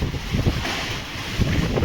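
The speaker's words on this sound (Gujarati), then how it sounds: "ઝાડ જો આડા થઈ જાય છે, એટલો જોશથી પવન ફેંકાઈ રહ્યો છે." Strong storm wind with rain at 2:30 at night buffets the microphone in rough, surging gusts, loud and close, with no voices.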